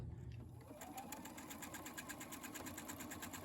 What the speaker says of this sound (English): we will sew this edge here with a scant 1/4 inch seam allowance